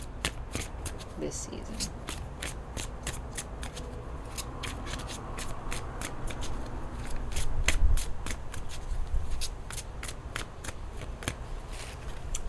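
A tarot card deck shuffled by hand, rapid repeated riffling clicks in quick bursts close up, while a person talks over it.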